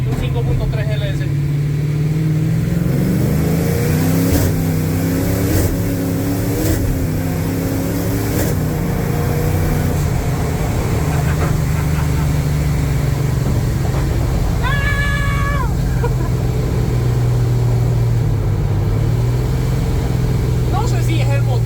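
A pickup truck with a ProCharger-supercharged 5.3 LS engine and 10-speed transmission drones low and steady under load as it accelerates, heard from inside the cab while people talk throughout.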